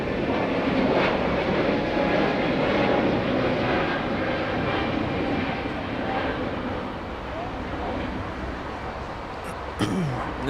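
A Japan Airlines Boeing 777 jet at Los Angeles International Airport gives a broad, roaring engine rumble that stays strong and then eases slightly, heard from a distance outdoors.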